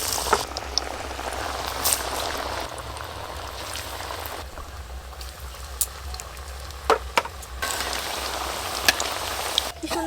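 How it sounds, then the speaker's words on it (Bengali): Chicken pakoras deep frying in hot oil, a dense, continuous bubbling crackle close by with sharp pops scattered throughout. "তেল গরম হয়ে গেছে, এবার আমি চিকেন পকোড়াগুলো ভেজে নেব।"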